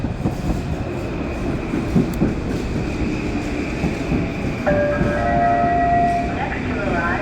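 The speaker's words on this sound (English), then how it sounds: "Here's the 10:34 train to Grand Central," Commuter train bound for Grand Central Terminal pulling into a station, with a steady rumble of rolling wagons and a sustained horn tone rising near the end, close by.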